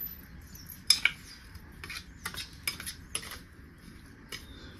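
Semolina, sugar and milk stirred together in a bowl, giving soft scattered scraping and clinking taps of a spoon against the bowl, faint and close, with no talking.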